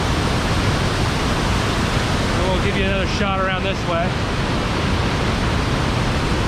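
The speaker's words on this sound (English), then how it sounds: "Just the water splitting through this craggy rock." River water rushes through craggy rock at Great Falls, a loud, steady broadband roar close by that fills the whole stretch, while a voice speaks briefly in the middle.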